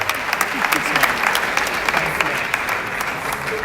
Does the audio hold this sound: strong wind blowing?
no